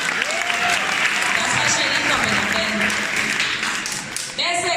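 Audience at a rural arts and crafts centre applauds student performers, a loud, dense burst of clapping from a crowd with voices and cheers mixed in, sustained and then tapering near the end.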